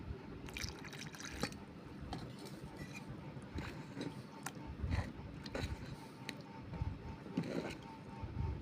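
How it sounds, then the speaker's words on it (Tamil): Water trickles and splashes into a bowl of wheat flour and rava dosa batter in short bursts, with soft stirring and clinks in between. "இன்னும் கொஞ்சம் தண்ணி ஊற்றிக்கலாம்."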